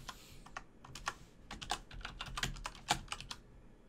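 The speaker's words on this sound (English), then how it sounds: "I'm going to type in my username and password." Fingers type a username and password on a computer keyboard: quick, irregular clacking keystrokes, close and fairly quiet, with no talking.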